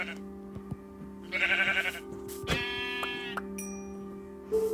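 Sheep in the Minecraft video game bleat twice in quick succession, with a third shorter bleat near the end. The calls are clear and fairly close, set over a steady game background hum, and no one speaks.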